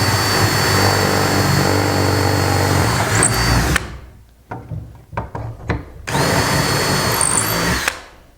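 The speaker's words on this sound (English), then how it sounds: "we use the bit that is included to drill out our holes" A loud power drill whirs steadily for several seconds, drilling holes for cabinet handles, stops for a few short bursts and clicks, then drills again at full volume.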